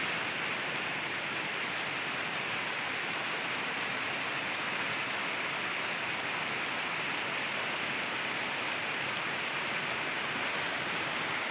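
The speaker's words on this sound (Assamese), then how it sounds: "আপোনালোকে চাব পাৰে ইমান বৰষুণ।" Heavy monsoon downpour pounding steadily around a small rural house in Assam, a dense unbroken hiss of rain at constant loudness throughout, with no voices.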